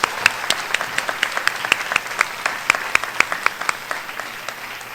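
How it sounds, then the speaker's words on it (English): A crowd at a high school senior awards ceremony applauding warmly, many hands clapping in a dense, steady patter for several seconds, with a few louder claps standing out. "Let's have another round of applause for Mr. Bomber."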